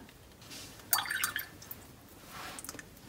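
A paintbrush is dipped and swirled in water while painting a model, giving a short burst of close, wet splashing and dripping, with a fainter second swish near the end.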